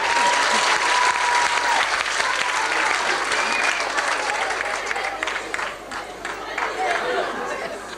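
Sustained audience applause fills a Hare Krishna tent gathering at Orient Park, steady dense clapping with crowd chatter mixed in, easing slightly toward the end.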